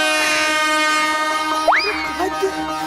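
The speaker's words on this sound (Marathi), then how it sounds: "अगं कोकणकडनं जाते भोंगा वाजवत." A train on the Konkan line sounds its horn in a sustained multi-tone blast that holds steady, then a sharper rising whistle-like tone cuts in near the end, loud and close, with no talking.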